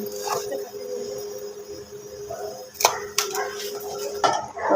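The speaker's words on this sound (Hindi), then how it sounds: "अब इनको जो है ना हम कटिंग करेंगे।" A knife cuts through steamed colocasia (arbi) leaf rolls on a board, with a few sharp separate chops against a steady low background hum and no talk.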